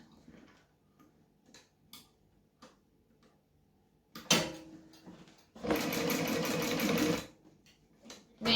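A sewing machine stitching fabric lining, starting with scattered soft ticks and clicks, then a short stitching burst followed by a louder sustained run of rapid mechanical whirring before stopping, close and alone.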